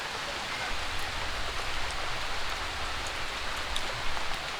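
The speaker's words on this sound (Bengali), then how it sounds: "মানে একটু পর পর বৃষ্টি আসতেছে" Steady rain falls outdoors, a dense, even hiss of drops on surfaces that holds at a constant level throughout, with no voices.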